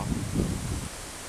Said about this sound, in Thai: มีลม มไม่แรงเท่าไหร่ครับ